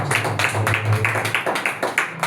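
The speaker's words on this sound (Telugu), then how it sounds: "చప్పట్లు కొట్టి" Rhythmic hand clapping at a Sunday church worship service, steady beats repeating about twice a second over a sustained low musical hum.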